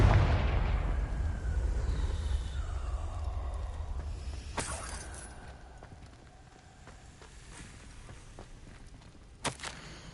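Confringo spell explosion in the Hogwarts Legacy video game, a loud booming blast that decays slowly into a rumbling tail, followed by a couple of sharp cracks.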